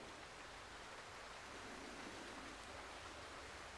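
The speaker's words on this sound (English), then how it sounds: "the monsoon season in Sri Lanka is just coming to an end and the rain for today is just starting" Monsoon rain falling in Sri Lanka, a soft steady wash of broadband hiss, faint and continuous with no voices.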